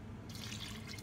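Water runs from a kitchen tap while green olive focaccia dough is being made, a steady hissing stream that starts about a quarter second in and continues at close range without talk.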